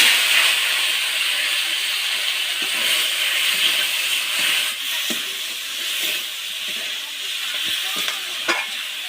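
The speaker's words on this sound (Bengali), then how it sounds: "এবার ম্যারিনেট করা মাংসটা দিয়ে দেবো।" Marinated chicken sizzles in hot oil seasoned with sugar, dried chilies and bay leaves, a steady bright frying hiss with faint stirring clicks and scrapes throughout.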